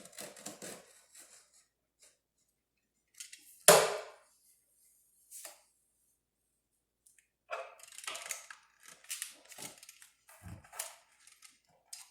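Sparse close cuts and snips trimming excess peel-and-stick vinyl wallpaper on a kitchen backsplash: one sharp loud crunch amid scattered light clicks and scraping slices, with long quiet gaps between.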